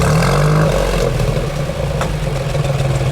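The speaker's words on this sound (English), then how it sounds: "Go ahead, give it a little rev." A 1953 Chevrolet Corvette engine runs close by, its low rumble rising in a brief rev, with a sharp backfire pop or two around the middle.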